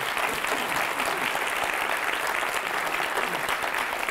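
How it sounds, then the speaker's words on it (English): Steady, dense applause from an audience at an entrepreneurs' event at a career boot camp, sustained at an even loudness for about four seconds with no break. "give them a round of applause for the speed round"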